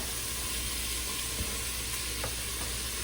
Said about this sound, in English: I'm just going to soften up our onions a little bit.